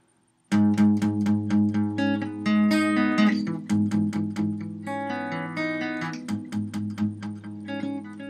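A guitar plays an intro line, picked notes ringing out in a lively rhythm, close and fairly loud with no voices.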